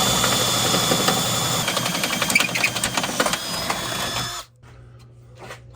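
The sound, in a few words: drilling with a small drill bit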